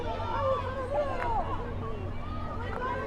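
Crowd murmur from spectators at a USWNT versus Chile women's soccer match at the Nook Complex in Lancaster County, a steady moderate hubbub of distant voices and chatter with no clear cheers.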